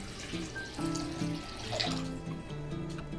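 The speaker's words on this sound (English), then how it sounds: "take 500 milliliters of some filtered water" Filtered water pours steadily into a bowl with a continuous splashing, gurgling rush that holds at an even level throughout, close by.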